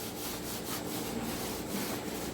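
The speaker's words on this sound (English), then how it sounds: "so I just scrub the top and then I scrub the bottom" Steady, rhythmic scrubbing strokes scour rust off old furniture, a close, rasping back-and-forth friction sound repeating evenly with no talking.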